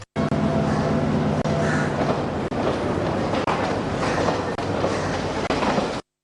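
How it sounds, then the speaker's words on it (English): An office train from Rambukkana arrives at Maradana station, a loud continuous rumble of rolling wagons with rhythmic wheel clatter and faint squeals, close and steady throughout. "an office train from Rambukkana reached Maradana station at 7:25 a.m."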